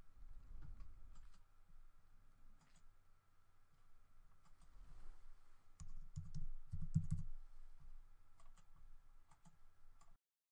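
Computer keys clatter in short, irregular bursts of typing, with scattered single taps and brief pauses, heard close but fairly quiet over a faint steady hum, with no voice.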